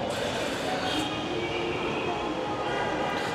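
A Dhaka metro train at Mirpur station gives off a low, steady rumble with a faint hum, fairly quiet and continuous throughout.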